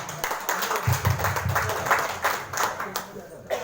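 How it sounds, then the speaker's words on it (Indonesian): Attendees at a regional deliberation meeting of RAPI in Kabupaten Agam clap in uneven, fairly faint bursts, with sharp individual claps audible and people talking in the room. "Tepuk tangan Pak Jatirman"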